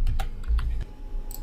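Keys clatter on a computer keyboard as a menu item name is typed in the Joomla content management system, a short run of close, crisp taps with no talking.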